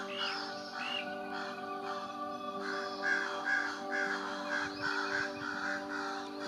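American crows sound their alarm call at a nearby cat, repeated harsh caws in uneven bursts, some close and some farther off, over a steady background hum.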